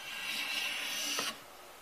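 A Defiance 1204 hand plane takes a shaving off wood in one steady close scraping stroke lasting over a second, ending abruptly, then quiet.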